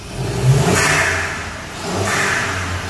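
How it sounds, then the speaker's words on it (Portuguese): A VW up! TSI with a stage 2 tune, heard through its intake: turbo pressurization swells under a rev, then the blow-off valve hisses as the throttle closes. A second, softer rise and release follows, loud and close with no talk. "Aqui tá o barulho só do intake com a pressurização e a válvula de alívio."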